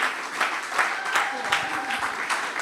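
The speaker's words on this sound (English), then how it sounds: "So keep on clapping till everyone is on stage." Audience clapping in a hall at a German startup summit expo as people gather on stage, moderate and uneven with rhythmic pulses, mixed with voices talking over it.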